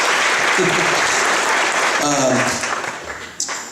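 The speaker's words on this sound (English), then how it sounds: "Give her a nice round of applause." Concert audience at a university fall show gives a sustained round of applause, loud and dense at first, thinning toward the end, with a voice speaking over it partway through.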